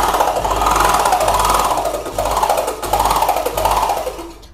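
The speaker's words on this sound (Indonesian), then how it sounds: "Motongnya saya menggunakan scroll saw. Seperti ini suaranya." A scroll saw cuts acrylic letters with a steady buzzing whine. The pitch dips and swells in a repeating pattern as the blade works through the sheet, loud and close, with no talking.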